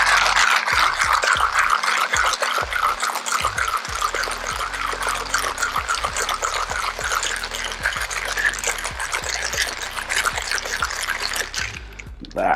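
A cocktail shaker holding a spicy pineapple margarita made with pineapple juice and ice is shaken hard, producing a continuous close rattle and slosh that stops abruptly at the end.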